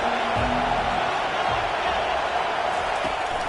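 Stadium crowd in the College Football 25 video game roars in a steady, loud wash of cheering that fills the whole stretch without a break.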